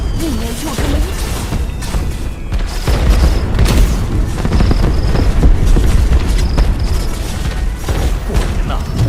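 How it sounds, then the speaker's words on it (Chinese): Fireworks bursting over a festival in the video game Where Winds Meet, a loud steady run of booms and crackling blasts with a character voice speaking over part of it. "烟花大会啊，一年就这么一场。"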